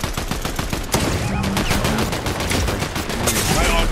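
Rapid gunfire from the Fortnite video game, with bursts of automatic shots and single cracks repeating loudly and densely throughout, layered over busy game effects.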